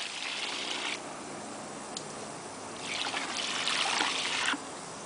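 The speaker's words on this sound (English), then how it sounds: "Are you spraying water?" Water sprays into a backyard pool in a steady hiss, a brief burst up front, then louder, stronger spraying toward the end, with no one speaking.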